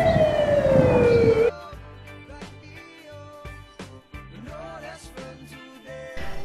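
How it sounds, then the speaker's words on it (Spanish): A loud, close siren wails briefly at the start, then gives way to music for the rest of the clip. "la ambulancia."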